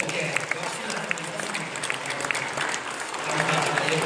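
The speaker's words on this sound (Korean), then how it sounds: "우리 예쁜 친구들 환영하면서 박수 한번 해주세요" A church congregation applauds to welcome the children, a steady, fairly close wash of many hands clapping that swells slightly toward the end.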